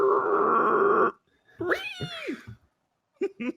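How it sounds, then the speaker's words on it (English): A cat-like creature's yowl in the video game Bloodborne: a loud bending, wavering meow-like cry after a burst of heavy noise, followed by two short sharp calls. "That sounds like a cat."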